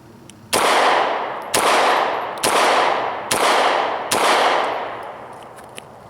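Five sharp 9mm pistol shots from a Sig 290RS ring out at a steady, fairly quick cadence roughly one second apart, each loud report trailing off briefly before the next.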